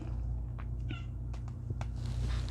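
A house cat meows a few times in short, squeaky calls, close by, over a low steady hum indoors.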